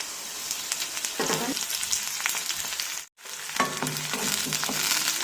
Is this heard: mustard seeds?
yes